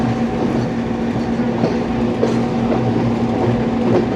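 A Subak Raftar railcar running on tracks between Rawalpindi and Lahore in monsoon weather, with a steady loud rumble, a constant hum and irregular rattles and clacks heard from inside the carriage, with no talking.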